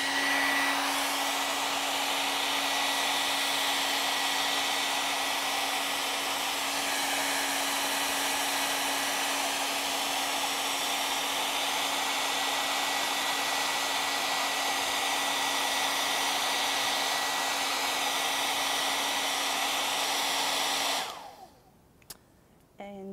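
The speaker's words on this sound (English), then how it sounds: "we'll hit this with the blow dryer for just a second" A hair dryer drying paint on craft candlesticks runs as a steady, loud, continuous whir with a constant hum for about twenty seconds before switching off abruptly.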